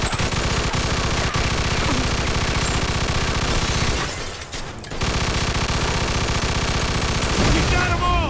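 Gunfire from a Mafia 2 shootout rattles in dense, loud bursts of rapid shots almost without pause, with a brief lull near the middle and clattering impacts throughout.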